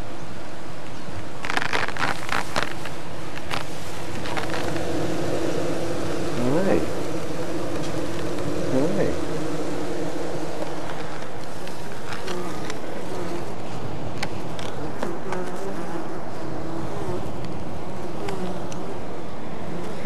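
Honeybees buzz and fan at a hive on Kauai, a dense, close, sustained hum with individual bees passing near. A voice is heard faintly at times.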